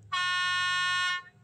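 A single loud, steady blast from the horn of the CC 65007 electric locomotive, a rich buzzing tone held for about one second before cutting off cleanly.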